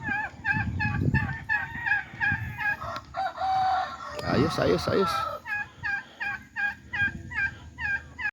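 Chicks peep in quick repeated bursts while native chickens cluck and a rooster crows nearby in Tagaytay, Philippines; a voice speaks briefly.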